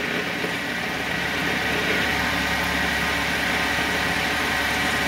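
A through-coolant drill bores a second hole through 27mm engine casing, giving a continuous machine drone with a steady hiss and low hum at an even level throughout, with no one speaking.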